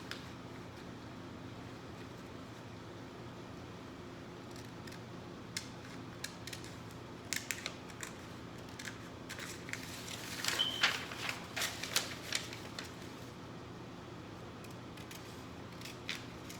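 Scissors cut through the fabric front of a tank tee, a faint series of soft snips and creaks that grows busier toward the middle, close by in a quiet room.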